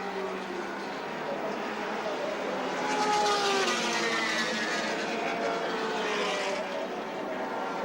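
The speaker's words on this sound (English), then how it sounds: "the Grice BMW going again" A BMW touring car races past at Surfers Paradise in 1981, its engine note rising to a loud, steady roar as it nears, holding for a few seconds, then easing slightly as it moves on, with no voices over it.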